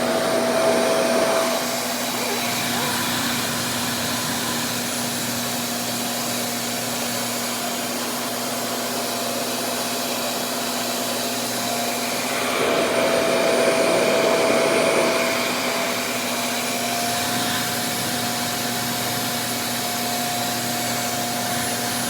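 RevAir vacuum hair dryer running on locs, a loud continuous whooshing roar with a steady whine that swells twice as the suction changes, alone without talk.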